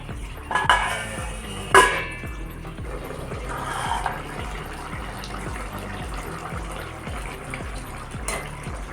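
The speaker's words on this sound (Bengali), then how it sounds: "এবার ঢাকনা দিয়ে ঢেকে কিছুক্ষণ রান্না করে নেব" A lid is set over a cooking pot of Bengali shrimp and sweet pumpkin curry, with two sharp metallic clinks near the start, followed by a low, steady simmer and faint rhythmic ticking.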